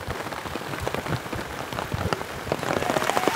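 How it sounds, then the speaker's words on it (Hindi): Heavy rain pours steadily on a village, a dense continuous hiss of drops drumming on surfaces, close and even throughout with no voices. "तो सब देख सकते हैं हमारे गांव में झमाझम बारिश हो रही है।"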